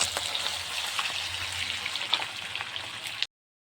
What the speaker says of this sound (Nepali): बेसन लगाएर अनि फ्राई गर्दैछु